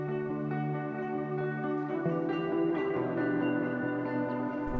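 Two compressed, processed electric guitars in an anthemic pop song mix play together, layering sustained chords and strummed accents into a full, continuous harmonic texture.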